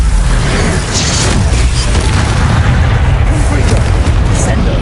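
Glacius ice spell cast in the Hogwarts Legacy video game, a loud dense burst of rumbling, booming impact noise filling the whole moment amid ongoing combat effects.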